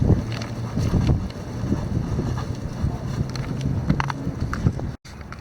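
Strong wind gusts roar and buffet steadily against the microphone for the whole stretch, a constant low rumble with no voices.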